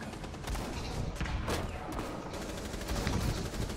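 Dense, steady gunfire from a round of the Rainbow Six Siege video game: a continuous, fairly quiet rattle of overlapping shots with a few sharper bursts, running for the whole moment with no break.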